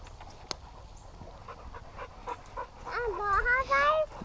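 A dog pants and whines during a game of high fives with its owner, the sounds close and rising toward the end, with bits of voice and small noises scattered around.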